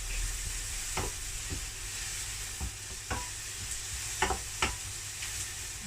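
Chopped mushrooms fry in a pan with a steady sizzle, broken by a few scraping strokes of a utensil stirring them.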